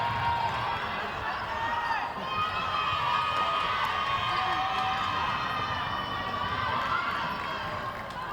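A crowd at a youth netball world cup match roars and cheers steadily throughout, loud and dense, with a commentator's voice running underneath.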